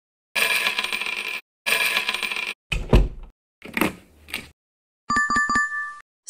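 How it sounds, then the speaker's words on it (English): Coins dropped in several separate bursts, first two longer metallic jingling spills, then a couple of scattered clattering drops, and finally a bright ringing clink sequence, close and clear against silence. "Sound is coins dropped"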